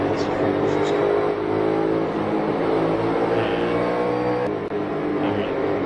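A NASCAR race car engine, heard from inside the car, holds a loud continuous roar with layered tonal harmonics while someone talks over it.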